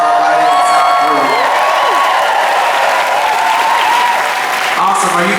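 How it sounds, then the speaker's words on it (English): Theatre audience applauding loudly and steadily at the London Palladium during a live show, with cheers and whoops rising through the dense clapping, a voice carrying over it. "Round of applause for our lighting and sound crew."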